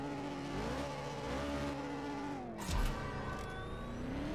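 Drag race in the CSR2 video game: a car engine revs hard through rising, dropping pitch sweeps as gears shift, with a brief low thump midway, loud and continuous throughout.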